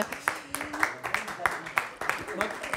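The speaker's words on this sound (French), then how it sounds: "Merci, on peut les applaudir." Audience at an eco-action trophies award ceremony applauds, a steady patter of claps from a moderately distant crowd, with a voice talking at the start.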